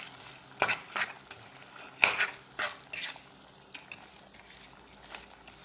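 Jaggery and jujube pickle mixture stirred in a pan, with soft scraping strokes and a faint sizzle, a few louder clanks of the spoon against the metal, no talking.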